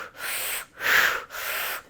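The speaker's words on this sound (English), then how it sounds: "The breath is going to be powerful in and out through an O-shaped mouth." Three forceful breaths pushed in and out through an O-shaped mouth during a kundalini breath-of-fire exercise, close and airy, each a long rushing hiss separated by brief pauses.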